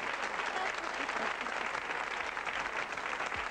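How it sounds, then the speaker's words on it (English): A studio audience at a comedy variety show applauds loudly and steadily, a dense continuous wash of clapping with no break. "Give him a round of applause for the lovely jacket."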